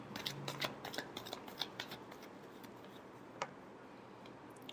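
Tarot cards being shuffled up close, a quick flurry of soft riffling flicks for about two seconds, then a single tap and quiet.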